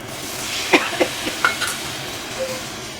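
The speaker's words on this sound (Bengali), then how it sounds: "জল দিয়ে দিচ্ছি," Water poured into a sizzling stuffed potol curry masala produces a steady fizzing hiss, with a few light clinks of a spoon against the pan.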